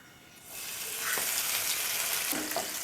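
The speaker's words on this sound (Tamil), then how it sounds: "இப்போ எண்ணெய் சூடாயிடுச்சு. ஒரு பட்டை, கிராம்பு, வெங்காயம் சேர்த்திக்கலாம்." Cinnamon, cloves and onion hit hot oil for pepper chicken chukka, a sizzle that swells and then holds steady and close, with a few light stirring scrapes and no talk.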